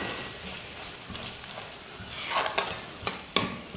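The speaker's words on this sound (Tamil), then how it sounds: "இப்போ எல்லா மசாலாவையும் சேர்த்து ஒரு நிமிஷம் நல்லா வதக்கிக்கலாம்." Soft sizzling as spice masala is sautéed in a pan for egg curry, with scraping stirs and a few sharp clinks of a utensil, growing louder toward the end.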